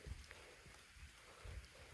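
Rain falling outdoors during a fishing outing, a soft, steady patter and hiss of drops with faint low thumps, distant and quiet throughout.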